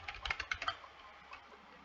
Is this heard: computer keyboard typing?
yes